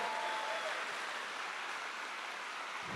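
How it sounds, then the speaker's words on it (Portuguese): A church congregation applauds during a priest's sermon, a steady, dense wash of clapping that holds at an even level throughout without any voices over it. "Pode aplaudir."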